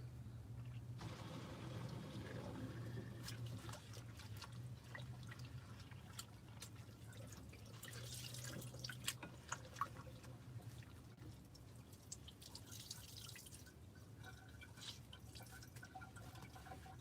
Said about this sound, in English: I'm letting the water out the sink into that